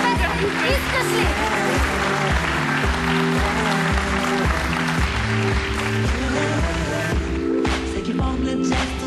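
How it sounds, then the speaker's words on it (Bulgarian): A studio audience on a TV show applauds a live duet, with steady clapping under a rhythmic musical backing and a voice speaking over it throughout. "Аплодисменти за Любо и Камелия!"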